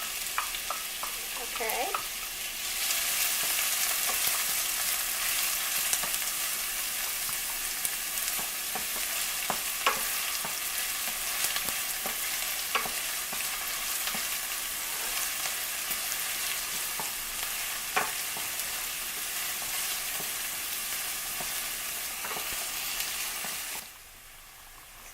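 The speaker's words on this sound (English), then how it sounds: "It's hot, so I'm going to put the onions in and just let those soften for a couple minutes." Onions sizzle and fry steadily in hot olive oil in a pan, a close, continuous crackling with small pops throughout until the sound drops away near the end; a brief word is spoken at the start.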